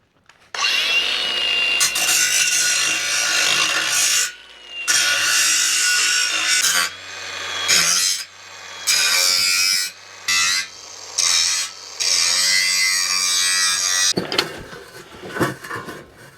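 A file drawn along a metal edge to form a small chamfer before welding: loud, close, rasping strokes repeated in a steady rhythm with brief gaps between passes and no speech.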